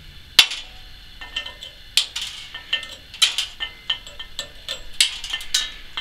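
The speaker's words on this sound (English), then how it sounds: "let's shut the welder off and get our slag off of there" Slag is chipped off a 7018 vertical-down weld with a hammer, producing a rapid series of sharp metallic clinks and taps at irregular intervals, close and fairly loud with no talking.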